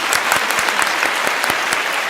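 A studio audience on the Alfapetek word game show applauds the champion at the final, a dense, loud burst of many hands clapping continuously with sharper individual claps standing out, and no one speaking.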